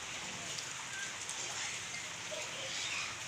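Steady rain falls outdoors with a fine, even hiss of drops on surfaces, faint and continuous throughout with no pauses.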